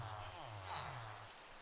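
Steady rain falls in Minecraft, a broad even hiss of drops hitting surfaces that continues throughout, with a low hum beneath and no talk over it.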